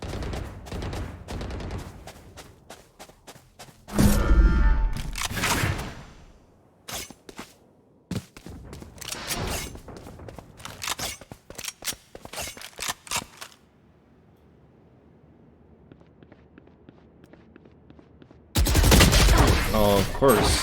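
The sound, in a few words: gunfire in a shooter video game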